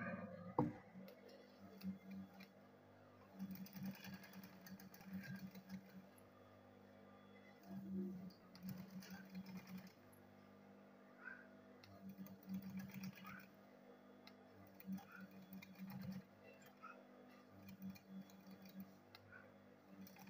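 A sewing machine stitching a handbag: quiet, intermittent bursts of rapid mechanical ticking and whirring that start and stop in short runs, with faint low background noise between them.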